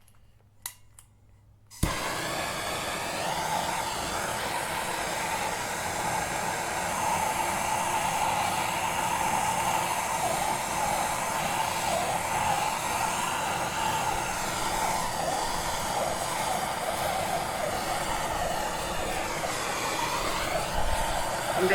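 Heat gun blowing hot air onto the exhaust pipe of a 2021 Beta 300 RR Racing two-stroke dirt bike, a loud steady whooshing roar that starts abruptly after a brief quiet moment and runs unbroken.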